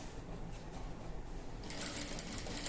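A sewing machine runs steadily while stitching a blouse neckline, a continuous close mechanical whir that grows louder and brighter partway through, with no talking.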